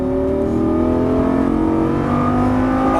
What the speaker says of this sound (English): squeeze throttle, let's get a good run